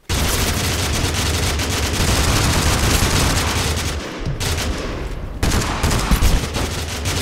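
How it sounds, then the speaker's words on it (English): A loud, heavy blast rolls through a chaotic firefight in Totally Accurate Battlegrounds, with dense continuous gunfire and booming impacts, then a brief dip and further rumbling crashes close by. "watch out, grenade!"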